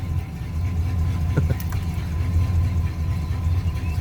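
A 1972 Chevrolet Nova idling with a low, steady rumble, a continuous even drone at moderate level with no talking.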